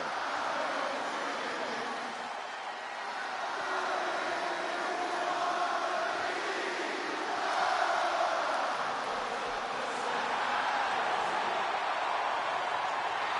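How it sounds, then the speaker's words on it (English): A large arena crowd in the WWE 2K26 video game roars in sustained ovation for a wrestler's entrance, a broad, steady wash of cheering that swells and ebbs, with a commentator talking over it. "Just listen to this ovation for the Second City Saint."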